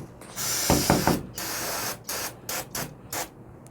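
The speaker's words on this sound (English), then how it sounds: "So go ahead and spray more throttle body cleaner." Throttle body cleaner sprayed from an aerosol can into an electronic throttle body, several loud close hissing bursts, one long then a run of short sprays separated by pauses.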